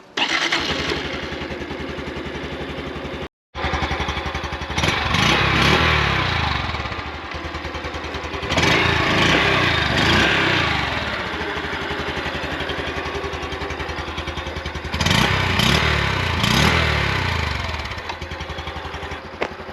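A 2023 Honda C125 Super Cub motorcycle engine cranks and starts after a brief silence, then runs and idles steadily, revving up and settling several times.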